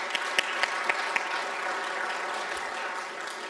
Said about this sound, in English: just another quick round of applause for them because they were amazing